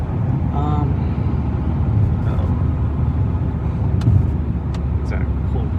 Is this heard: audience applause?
no